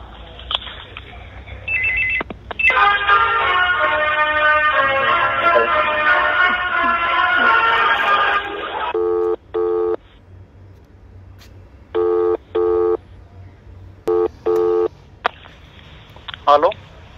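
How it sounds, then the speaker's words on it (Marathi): Telephone line tones sound during a call transfer: a long held tone and hold music, then repeated short beeping bursts of ringback, loud and close, with people talking in between. "एक मिनिट जोडून देतो, फोन चालू होते."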